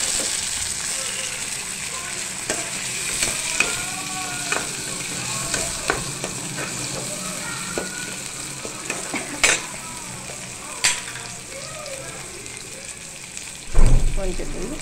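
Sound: onions frying in pan with mint, curry leaves, coriander

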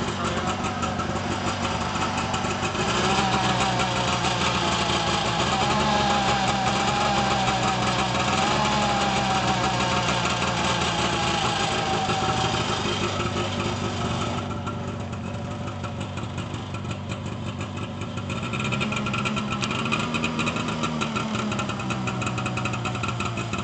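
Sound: 1989 Arctic Cat Jag 340 snowmobile engine idling

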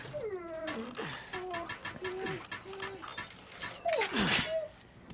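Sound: puppy whimpering in video game Resident Evil 4

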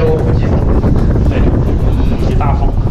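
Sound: strong wind blowing through a cave

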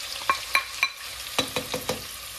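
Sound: oil crackling, small onions frying for fish curry

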